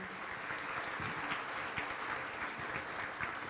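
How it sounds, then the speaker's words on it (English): Gala audience applauding board members, a steady, dense wash of clapping from a large crowd that fills the whole stretch without pause. "could you give the board members a huge round of applause for all of their work?"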